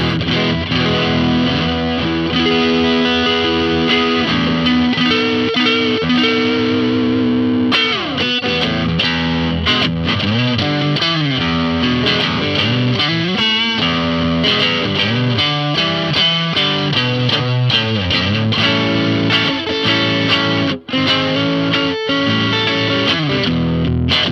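Overdriven electric guitar through an overdrive pedal with drive and tone fully up plays sustained, gritty chords and riffs, loud and continuous with a warm, saturated tone and no voices.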